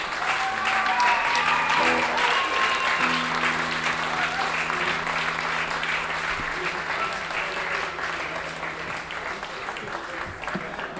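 Concert audience applause at the Bergen Bonanza Last Waltz special, a dense, steady clapping from the crowd with a band's sustained tones beneath it, gradually easing off and overlapped by talk.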